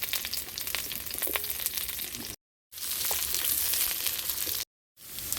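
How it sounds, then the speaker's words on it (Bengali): Potato pieces sizzle steadily in hot oil as they are sautéed plain, without salt or turmeric, for a cauliflower and fish curry; the crackling fry runs loud and close, broken by two short silent gaps. "আলুর মধ্যে আমি লবণ হলুদ কোনো কিছু দিচ্ছি না, এমনিতে কষে নিচ্ছি"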